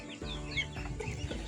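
Native chickens clucking in a backyard farm alongside ducks at feeding time, a few close, soft clucks and murmurs over a low steady background, no speech.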